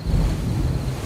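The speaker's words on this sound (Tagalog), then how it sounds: "Ganyan ang tunog ng mga alon" Ocean waves as a drama sound effect, a steady low rushing wash of surf with wind-like noise, continuous and fairly close for about a second, with no talk over it.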